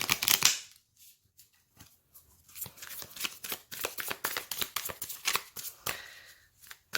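Tarot cards are shuffled by hand in repeated riffles and slides, with soft papery flicks and short bursts at close range, fairly quiet, with brief pauses.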